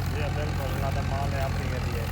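A wheat threshing machine runs in a farm field, giving a loud, steady, unbroken mechanical drone with a low throbbing hum throughout.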